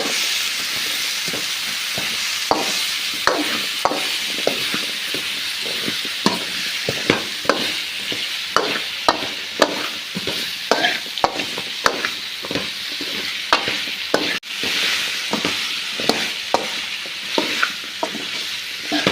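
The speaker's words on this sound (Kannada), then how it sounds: "ಹೀರೆಕಾಯಿ ಮತ್ತು ಆಲೂಗಡ್ಡೆನ ಇದಕ್ಕೆ ಸೇರಿಸ್ಕೊಳ್ಳೋಣ ಸೇರಿಸಿ ಮಿಕ್ಸ್ ಮಾಡ್ಕೊಳ್ಳಿ ಚೆನ್ನಾಗಿ" Ridge gourd and potatoes are stirred in a sizzling pan for sambar, giving a continuous hiss punctuated by frequent sharp spoon scrapes and taps against the pan, close and fairly loud.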